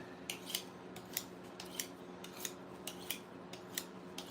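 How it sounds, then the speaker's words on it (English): Knife blade being sharpened with repeated short, crisp scraping strokes, about a dozen evenly spaced, close and fairly quiet, during fur-shed trimming work, with no talk. "So I'm just going to sharpen my knife up here real quick so it's a nice easy trim."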